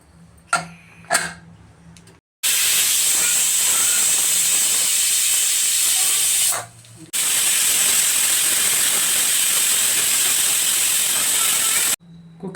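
A pressure cooker cooking hotel-style rice bath lets off two long, loud, steady steam whistles separated by a brief pause, after a few light clanks at the start.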